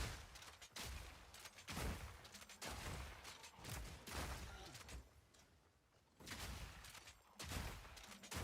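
Crossbow Barrage attacks from the game Path of Exile fire in rapid volleys, with dense bursts of overlapping shots at a steady rhythm and brief gaps between them.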